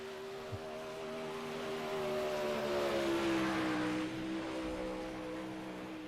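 A 360 sprint car engine at Knoxville's dirt track winds up steadily, its loud sustained drone rising and sagging slightly in pitch as it powers through the turns during championship night qualifying.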